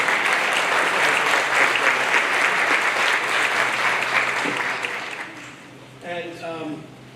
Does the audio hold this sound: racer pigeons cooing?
no